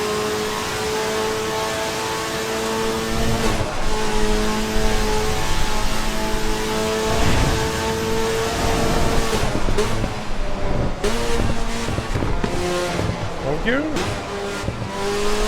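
Racing car engine in Assetto Corsa EVO drones steadily with harmonic tones, rising and falling as it revs, with brief tire squeal, while someone talks over it throughout.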